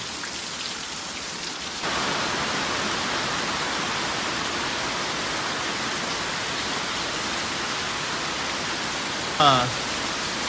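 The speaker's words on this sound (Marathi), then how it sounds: "आणि पाऊस अजून पण सुरू असा" Heavy monsoon downpour falls steadily as a dense, continuous hiss, growing fuller after the first two seconds, with a brief clatter near the end.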